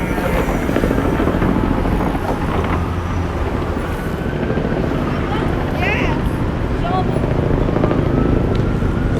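A helicopter passes directly overhead near the Brooklyn Bridge, and its rotor wash and engine make a dense, loud roar that fills the whole clip. Wind buffets the microphone, and crowd chatter and voices blend into the noise.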